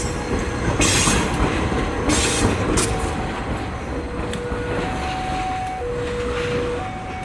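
A train rolls into a station track with a steady heavy rumble of wheels on rail, rhythmic clicks over joints and faint high squeals from the wheels, loud and close throughout with no talking.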